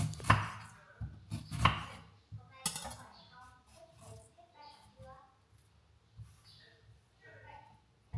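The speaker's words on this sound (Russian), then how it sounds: "Я снимаю с него кожуру с ананаса." A knife cutting the skin off a not-very-fresh pineapple, with several sharp chopping strikes early on, then quieter scraping and slicing sounds close by.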